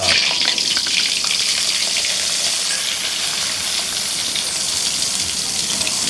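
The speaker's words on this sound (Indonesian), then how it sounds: "sekarang lagi bagian pemasakan Goreng peda" Salted peda fish from Pangandaran frying in a pan, a steady, loud broadband sizzle with crackling that runs without pause for the whole stretch, with no talking.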